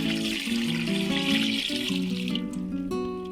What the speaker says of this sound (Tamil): கொஞ்சம் தண்ணி சேர்த்துக்கிறேன்.